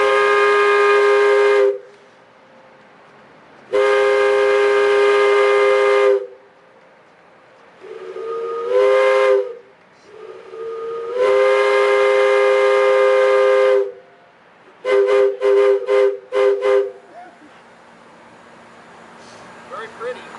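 A locomotive air horn at Saginaw sounds in several long, melodious blasts with pauses between, ending in a series of short quick toots, while a voice speaks in the gaps.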